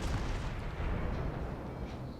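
Naval ship guns firing in a warship battle game, a rolling boom with low rumbling blasts that run together, loud and continuous without voices.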